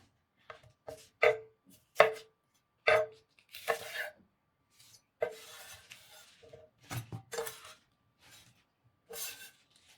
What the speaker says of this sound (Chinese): 把油菜的根部去掉，中间切一刀。